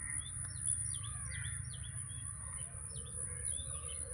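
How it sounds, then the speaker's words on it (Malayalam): Many birds chirp and call across a mangrove forest beside a cage fish farm, a scatter of short bright tweets at middle distance over a low steady background hum. "ഒരുപാട് കിളികളുടെ ശബ്ദം കേൾക്കുന്നുണ്ട്."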